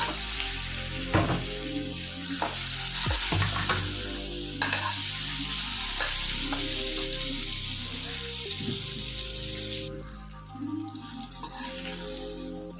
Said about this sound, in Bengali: এবার আলুগুলোকে ফ্রাই করে নেবো